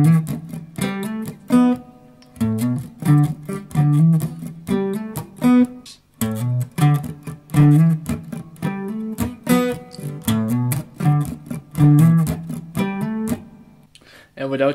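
Acoustic guitar strummed in a lively rhythmic pattern of chords, with short pauses between phrases and muted percussive strokes mixed in.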